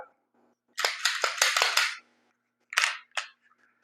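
A pistol is cleared and its magazine removed, giving a tight cluster of loud metallic clacks and rattles followed by two more sharp clicks after a pause, close and otherwise quiet.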